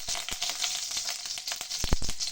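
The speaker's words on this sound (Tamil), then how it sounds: "எண்ணெய் கொஞ்சம் சூடானோடனே நம்ம வந்து கடுகு போடலாம்" Mustard seeds crackle and sizzle in hot oil for a tomato thokku, with sharp popping bursts over a steady bright hiss, fairly close and moderately loud, no voices.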